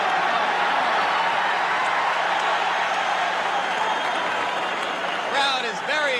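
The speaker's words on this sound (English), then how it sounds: "Crowd is very excited." Spectators at a 1986 heavyweight boxing match between Mike Tyson and Jesse Ferguson roar and clap in an arena, a broad, steady crowd noise heard at a distance, with a broadcast commentator talking over it.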